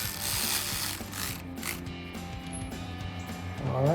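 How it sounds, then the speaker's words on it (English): A manual ratchet clicks repeatedly while tightening during brake rotor installation on a 2015-2023 Mustang, a close, steady run of mechanical clicks. "take this or your manual ratchet instead of your electric one"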